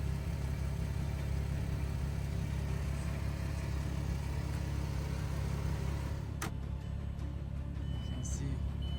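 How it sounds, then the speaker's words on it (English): A used, low-mileage replacement engine in a Winnebago Rialta 22QD motorhome idles steadily with a deep, constant rumble, close and continuous, with a brief sharp click partway through. "I can show you the new engine."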